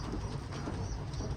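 Pet pigeons coo softly at close range, a brief low murmuring burble with some background noise.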